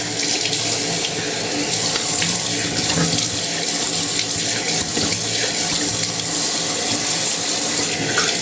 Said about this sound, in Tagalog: Yan, hugasan muna natin yung ating face.